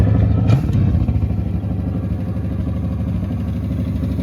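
A jet-age barn-find engine runs with hydraulic oil in its exhaust, giving a steady, loud clattering idle with a brief sharper burst near the start and no talking.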